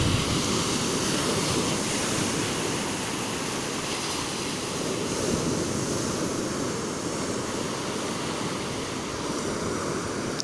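Sea waves wash onto the shore near Alang, Bhavnagar, as a steady, unbroken surf roar that stays even throughout, with no voices.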